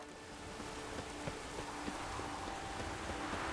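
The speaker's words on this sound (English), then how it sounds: "I like rain." Steady rain hisses across the scene in The Witcher 3: Wild Hunt, a continuous wash of falling drops with faint, scattered patters, heard on its own without voices.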